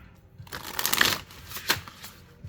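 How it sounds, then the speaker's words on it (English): A riffle shuffle of an Animal Guides Tarot deck of 78 cards, a quick fluttering burst of card edges followed by a shorter flick, close and crisp. "overhand shuffle, and they do a nice riffle shuffle."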